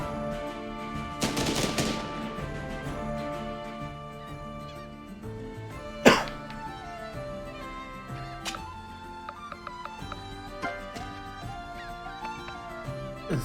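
Battle gunfire in the Banner of the Maid strategy game: a dense burst of rapid musket-style shots early on, then a single sharp loud report, followed by scattered lighter cracks and clicks over background game music.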